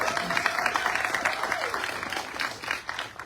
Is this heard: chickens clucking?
no